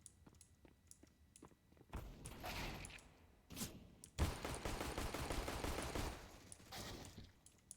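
Video game gunfire crackles in bursts: a few sharp isolated shots, then sustained rapid automatic fire, fairly faint and without talk over it.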